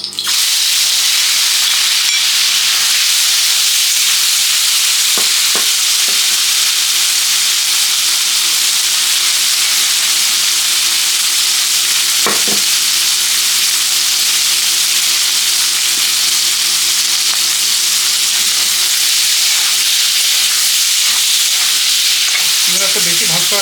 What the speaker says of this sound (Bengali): এর মধ্যে চিংড়ি মাছটা ভেজে নিই।